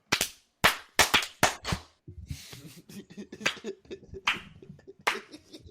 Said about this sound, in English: Oh, we have to do a clap.